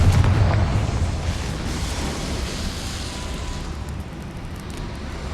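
A Confringo spell blast in Hogwarts Legacy booms loudly at the start, then rolls into a long, rumbling decay that fades over several seconds with no voices.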